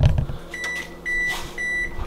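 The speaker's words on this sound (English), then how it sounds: "That beeping, y'all, is the stove telling me that it's ready." A kitchen stove signals it is ready with three long electronic beeps, close by and clear, spaced evenly over a low background hum, with no talking.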